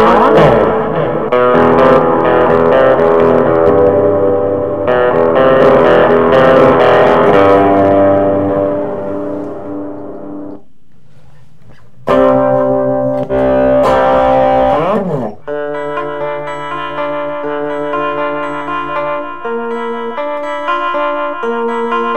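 Electric guitar played through Chaos Audio Stratus preset effects: loud, sustained chords with distortion and modulation, a brief drop to quiet near the middle, then a cleaner ringing passage.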